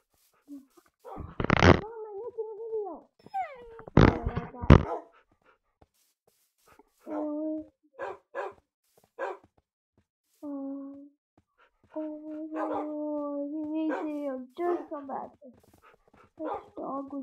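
A dog whimpers and yelps, with high whines and howl-like cries in short bursts, plus sharp barks near the start, all close.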